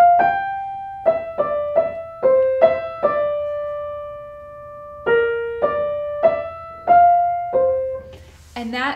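A piano plays only the melody line of Debussy's Rêverie, single soft notes struck one at a time with gentle decay, a long held tone in the middle and a quiet breath or murmur at the end.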